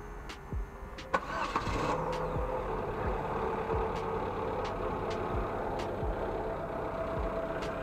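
An Opel Astra J or Chevrolet Cruze with a GM 6T30/6T40 automatic gearbox cranks and starts, then settles into a steady, even idle, heard close up with no talking.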